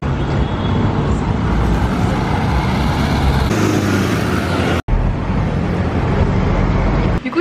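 Loud, steady roar of busy city street traffic with tuk-tuks in Ica, Peru, engines passing close by, continuous throughout, with a brief cut near the middle.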